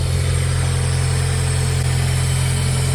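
Nissan Pulsar N14 Ti with its SR20DE engine idling shortly after a cold start, a steady, loud, even drone with a constant low hum and no voices over it.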